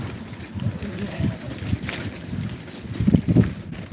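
Outdoor ambience at a riverside ferry terminal in Bangladesh, with launches and boats nearby, low rumbling engine and water noise, wind buffeting, and occasional voices.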